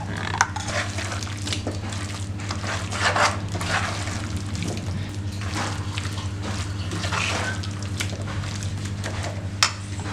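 Water poured into a hotel-style veg kurma simmering with a coconut and cashew paste: a steady, moderately loud splashing hiss over a constant low hum, with no talking.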